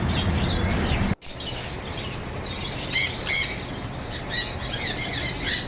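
Caged birds at a pet-bird sale stall in a stadium building in Kozhikode chirp and tweet in repeated bursts over a busy background hum, with a brief dropout early on.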